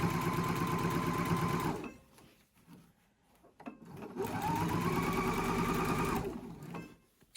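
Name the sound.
sewing machine stitching the edge of a wine bag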